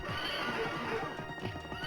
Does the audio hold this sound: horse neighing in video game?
yes